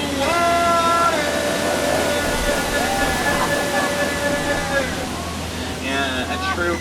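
Waterfall at the backside of water on the Jungle Cruise ride at Magic Kingdom, Walt Disney World: a constant broad rush of falling water beneath steady talk and a tonal hum, fairly loud and unbroken.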